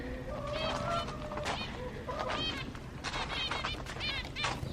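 Many finches in an aviary chatter and chirp in overlapping high-pitched calls at a moderate distance, with a steady background hum underneath.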